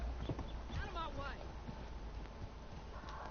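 A Mustang horse in Red Dead Online clip-clops with a few quick hoof steps and a brief whinny, close and moderately loud, while a voice speaks over it.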